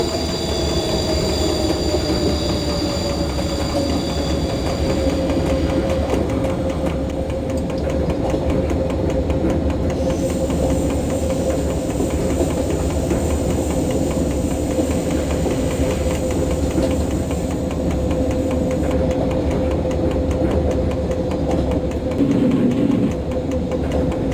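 A train slowing to about 30 km/h as it enters Saint-Georges-de-Comiers station on the Grenoble–Veynes Alpine line: continuous rolling rumble with a sustained wheel squeal and faint rhythmic clicking over the rails, heard from on board.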